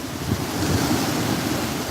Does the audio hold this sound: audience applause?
no